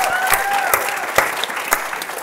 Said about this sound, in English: Round of applause for Liv, please.